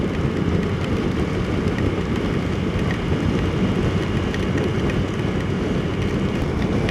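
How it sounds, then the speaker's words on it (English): Steady rain during a motorcycle ride on a loop through Sabah, Borneo, a dense, even hiss that stays loud and unbroken, mixed with a low rumbling roar throughout. "I think I'm leaving the rain behind"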